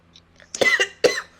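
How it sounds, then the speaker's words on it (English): Two people cough hard after smoking from a bowl, a short burst of harsh, close coughs with a throat clear, no talk. "you guys are both coughing your asses off"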